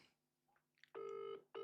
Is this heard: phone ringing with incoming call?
yes